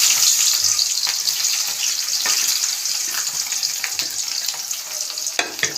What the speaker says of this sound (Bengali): সর্বপ্রথম আমি পেঁয়াজ কুচি পাতা দিচ্ছি